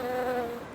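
Bees buzzing around a candy food stand in a video game, a dense steady drone of several insects close by, holding at an even loudness for under a second with no talk.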